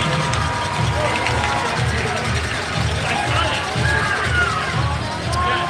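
A hockey arena crowd cheers and murmurs steadily through the whole stretch, a broad continuous roar with babble and no clear pauses.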